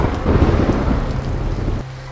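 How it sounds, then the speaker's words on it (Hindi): Steady light rain falling outdoors at night, a dense continuous hiss with low rumbling that suggests distant thunder, loud and unbroken until it drops off sharply near the end, with no voices. "बाहर हल्का हल्का बारिश हो रहा था"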